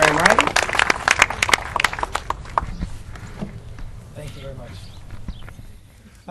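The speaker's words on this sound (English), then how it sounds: "we need to give him a big round of applause" A press conference crowd gives a round of applause: strong, scattered claps in the first seconds thin out and fade into quieter room noise with faint voices.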